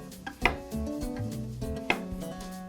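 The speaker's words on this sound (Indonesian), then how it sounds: "Tapi di sini gue akan irisnya serong seperti ini" A knife slices a vegetable on a cutting board at a slant into pieces about 1 cm thick, giving two sharp close taps against the board with quiet rubbing between them, no talk.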